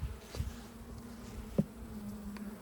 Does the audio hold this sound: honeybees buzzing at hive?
yes